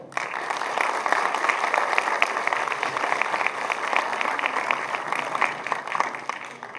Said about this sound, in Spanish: agradecemos al doctor Miguel con un aplauso